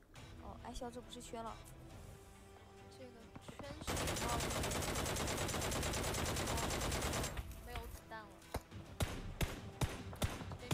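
Rapid rifle gunfire in PUBG Mobile rattles out in a dense, sustained burst lasting a few seconds, framed by scattered single shots and clicks before and after.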